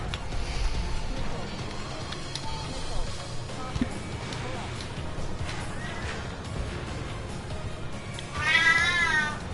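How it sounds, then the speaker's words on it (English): A pet cat meows several times near the end, a rising wavering cry close by, over steady game sound and music from an Ace Combat 7 session. "my cat just entered the room. Hello. Hello, Ange. I see you're awake now. Or, sorry, rather, I can hear you're awake now."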